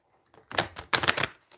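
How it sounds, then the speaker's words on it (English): Tarot cards being shuffled by hand in two brisk bursts of riffling and flapping, close and fairly loud, with brief quiet gaps between them. "Let me shuffle this"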